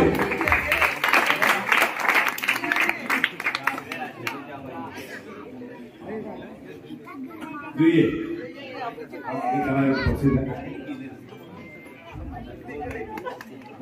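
Applause and cheering crowd chatter rise at a lucky-draw prize announcement at the Swayambhu Jambukeshwar Devasthan temple event in Hatkhamba Dangewadi, 2025. The clapping is densest early on, then fades into a murmuring crowd with voices talking over it.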